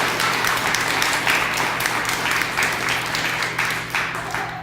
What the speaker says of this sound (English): Can we please have a round of applause for Caitlin and for Larry?